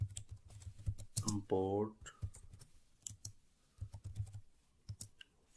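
Rapid clicking on a computer keyboard while code is entered for an Ionic 3 app, with keystrokes in an uneven rhythm running under and between brief spoken words.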